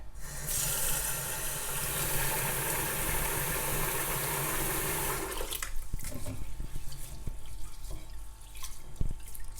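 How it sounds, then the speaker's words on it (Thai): Rice being washed in an ordinary cooking pot; water rushes steadily into the pot for about five seconds, then gives way to softer sloshing and trickling, close and alone. "ล้างเอาเศษฝุ่นเศษผงออกนะคะเผื่อเขามีติดมาเนาะ"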